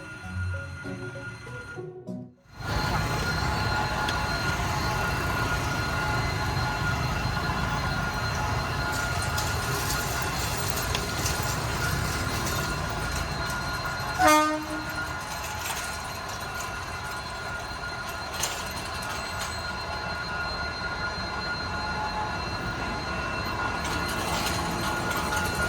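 A Vietnam Railways train hauled by a diesel locomotive rumbles past the first level crossing outside Saigon station, a continuous heavy roll of wheels and engine with a brief clank midway, close and steady throughout.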